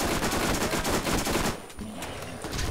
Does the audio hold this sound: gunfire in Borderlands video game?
yes